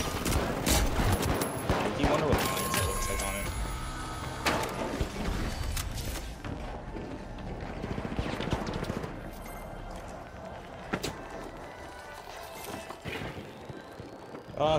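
Rapid bursts of Pike-556 gunfire in The Finals crackle loudly and densely over busy game sounds and mechanical clatter, continuing in bursts as a player talks.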